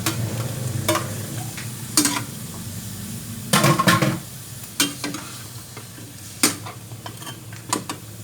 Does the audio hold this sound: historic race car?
no